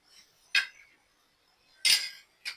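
A spoon clinks and scrapes against a bowl while dabeli masala, chaat masala and peanuts are mixed, giving three short, bright metallic strikes separated by quiet pauses.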